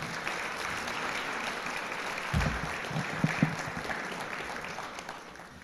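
Quiet applause from an audience at a guide dog class graduation ceremony, a soft continuous patter of clapping heard from a distance with a few low thumps partway through.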